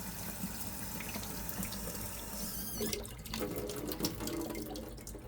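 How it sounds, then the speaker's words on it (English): A kitchen tap runs as an item is rinsed beneath it, a continuous quiet splashing stream whose sound shifts partway through as the water hits the item. "I'll just give this a nice little rinse off there before I do my parfait"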